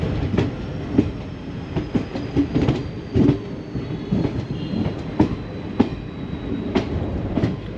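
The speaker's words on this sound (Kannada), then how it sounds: "ನಮ್ಮ ಟ್ರೈನ್ ಬಂದಿದೆ ಪ್ಲ್ಯಾಟ್ಫಾರ್ಮ್ ನಂಬರ್ 1ಗೆ" Mysore–Talaguppa Intercity Express rolling at Holenarasipura station, loud rhythmic clickety-clack of wheels over rail joints with repeated sharp knocks and a steady rumble, close and continuous.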